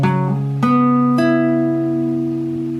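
A guitar picks out the chords of a song very slowly, three plucked notes ringing in turn and overlapping into a sustained, close and clear chord.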